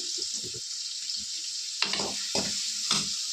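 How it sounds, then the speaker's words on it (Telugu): Green chilies and onions frying in oil, a steady close hiss with several stirring scrapes and spatula knocks in brief bursts, no voices. "ఈ నూనెలోనే పచ్చిమిర్చి, తర్వాత కొద్దిగా ఉల్లిపాయలు వేస్తున్నాను. చూడండి, ఇది బాగా వేగాలి."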